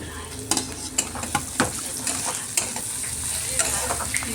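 Onion, minced garlic and chopped green chillies frying in a pan, with a loud steady sizzle under repeated quick scrapes of a stirring spoon, close by.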